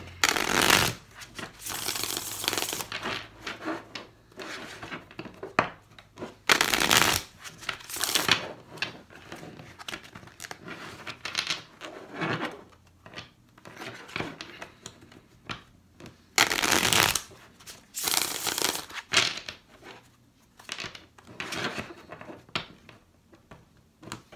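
Tarot cards are shuffled repeatedly up close, bursts of riffling and flapping alternating with softer handling and tapping of the deck.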